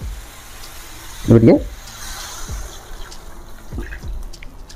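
Water splashes briefly into a pot of potato curry, a short pour near the mic, followed by quieter faint drips and stirring sounds.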